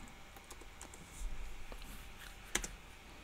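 Someone types on a computer keyboard, a quiet irregular patter of light key clicks with one sharper tap near the end, faint and close.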